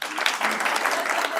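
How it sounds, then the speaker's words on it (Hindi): Clapping from an audience at a talk or speech event, a dense, steady burst of many hands lasting a moment, close and fairly loud with no voices over it. "ताली बजती है"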